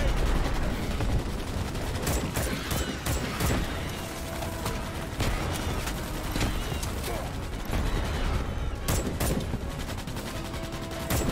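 Enemy gunners firing during a base attack in Starship Troopers: Extermination, heard as dense, continuous battle noise with repeated sharp gun bursts and mechanical clatter throughout.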